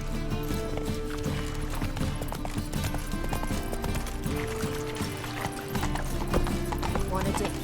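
Roach the horse gallops in The Witcher 3 with a fast, steady clip-clop of hooves and an occasional whinny, set against game music and ambient sound.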